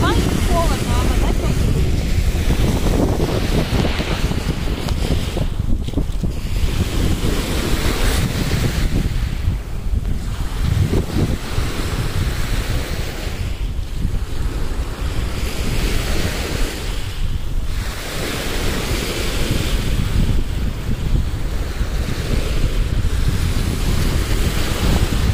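Wind gusts buffet the microphone at the seashore, with surf rolling steadily in the background and a roaring, rising-and-falling rhythm.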